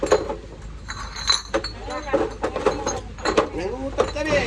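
Glass beer bottles clink and knock together in scattered, close bursts of bright ringing taps, with people talking loudly over and between them.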